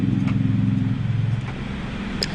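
A car engine drones steadily while cruising at 50 miles an hour, a low, even hum that stays close and constant for a couple of seconds.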